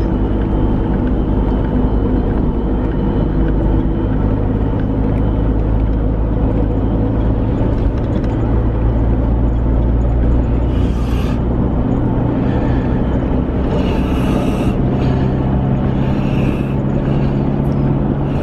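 A car overtaking on a road, heard as a loud, steady engine and road rumble that holds for the whole stretch with no clear rise or fall, no voices.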